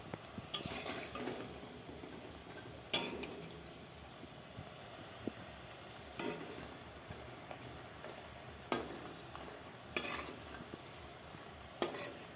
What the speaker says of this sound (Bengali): কম করে আঁচটা দিতে হবে আর আস্তে আস্তে করে ভাজতে হবে